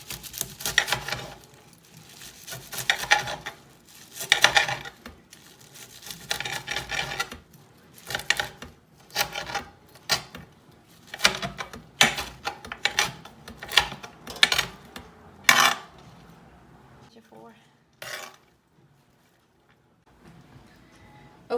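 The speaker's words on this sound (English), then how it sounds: "Kale is harder than the other ones, so you have to use a little bit more force to cut it" A knife chops through kale on a cutting board, giving irregular bursts of crisp cuts and thuds, loud and close, that thin out toward the end.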